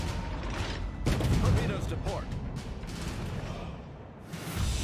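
World of Warships 305mm naval guns firing HE shells, a heavy deep boom with rumbling low end and mechanical clatter, followed by quieter battle noise under a talking voice.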